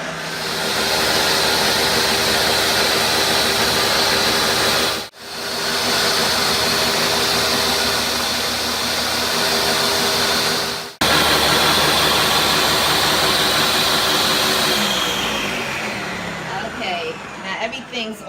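A blender purees recaito ingredients in a loud, continuous whirring roar that runs for several seconds, cuts out briefly twice and restarts, then winds down toward the end.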